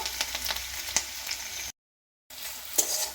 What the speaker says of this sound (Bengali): পেঁয়াজটা এখন লাল করে ভেজে নেব।